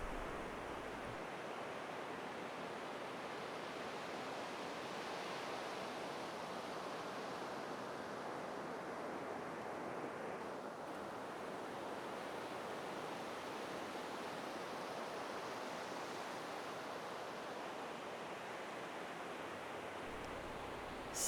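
A steady, broad rush of water like ocean surf or a waterfall, constant and unbroken throughout, moderately loud with no voices.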